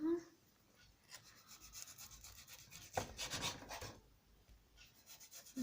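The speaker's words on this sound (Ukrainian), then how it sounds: "Зараз я його ріжу." Soft, close scraping and rasping of a knife slicing through a baked cheese roll with minced meat filling, in a few short strokes separated by quiet pauses.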